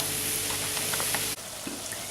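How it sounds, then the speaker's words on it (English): Minced meat for Bolognese sizzles steadily in a hot pan as it is stirred, a close, even frying hiss broken by a brief scrape and pause before the sizzle resumes. "So we're going to keep stirring this now until it starts to brown."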